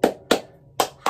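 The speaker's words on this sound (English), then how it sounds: "Deeper clap" Four sharp, deep hand claps made with the hands crossed in an X, spaced unevenly and close, each with a short ringing tail in a quiet room.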